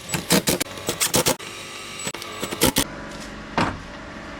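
Phillips head screws being removed from the air box of a 2021 Chevy Blazer, a series of sharp, close mechanical clicks and ratcheting bursts in an irregular rhythm with no talking.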